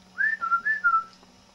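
A person whistles a short four-note tune, rising and falling notes in quick succession, clear and close in a quiet room with a faint low hum beneath.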